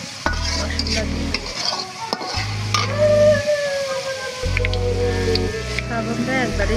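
Spices stirred into browned frying onions for a goat leg curry, a sizzle under a blunt rhythmic scraping of a spoon against the pan, with loud low tonal hum bursts and a voice talking.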